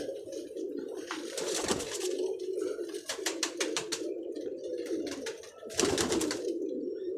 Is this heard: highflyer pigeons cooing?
yes